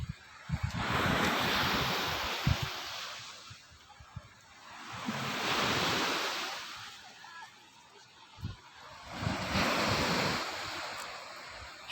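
Sea surf rolls in three large swelling surges, each building and washing back, with gusting wind buffeting the microphone throughout on an outdoor seashore under changing weather.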